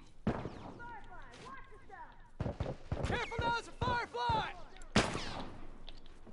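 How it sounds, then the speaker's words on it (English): Gunfire in The Last of Us multiplayer video game, sharp close shots and bursts cutting through a busy mix, with voices calling out over the fighting. "Got two people shooting at me."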